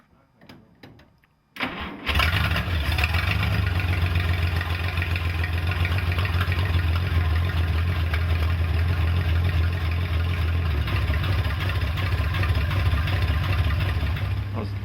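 A 1951 Studebaker Champion engine catches after a quiet moment and settles into a steady, loud, close idle, running continuously with a deep low rumble and no talk.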